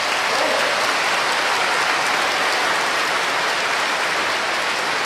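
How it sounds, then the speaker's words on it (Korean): Loud, steady applause fills the church as a packed congregation claps together at an Easter vigil Mass, a dense, continuous patter like rain that holds evenly from start to finish. "우리 미사에 참여한 모두를 위해서 박수 한번."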